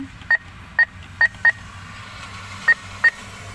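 Short keypad beeps from a bank ATM as a phone number is typed in, six crisp tones spaced irregularly over a quiet low hum, with no talking.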